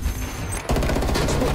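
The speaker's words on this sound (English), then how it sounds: "Explode grenade." Grenade blast in Call of Duty Black Ops Cold War: a steady loud rumble that suddenly jumps into a heavy, close explosion with rattling debris, lasting under two seconds.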